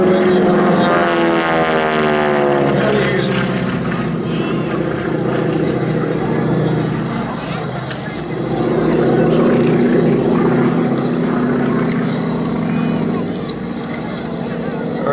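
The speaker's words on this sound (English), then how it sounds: "The T6 motor is not all that powerful." Loud, droning engine of a T-6 propeller airplane at an air show, continuous with a slowly shifting pitch as it passes and banks overhead.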